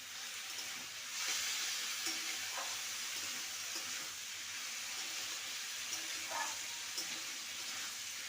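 Ridge gourd and potato stir-fried with slit green chilies, making a faint, continuous sizzle with a few soft stirring clicks.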